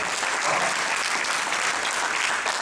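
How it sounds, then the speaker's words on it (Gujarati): Dense, steady applause from a large congregation at an evening Paryushan religious discourse in New Jersey, filling the whole stretch without pause and with no voices over it. "તમારા માટે એક જોરદાર તાળી આપો"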